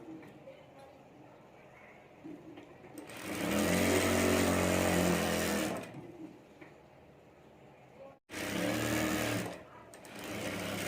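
Sewing machine stitching a zippered pocket onto a handmade fabric bag, loud steady whirring bursts of about three seconds and then two seconds, close by, with someone talking quietly between runs.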